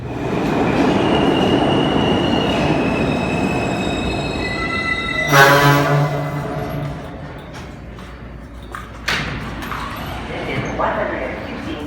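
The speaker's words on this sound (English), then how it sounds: "the trains go pretty fast, and in saying that, they jerk you around really abruptly as well." A New York City subway train rumbles along the rails with a loud, steady roar, rising squeals from the wheels and occasional sharp clanks.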